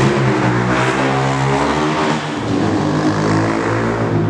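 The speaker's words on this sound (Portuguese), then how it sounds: "Só não compre 125 de escapamento fora" A 125cc motorcycle with an open exhaust roars past close by, a loud, steady, raspy engine drone that dips briefly in pitch midway before carrying on, with no talking.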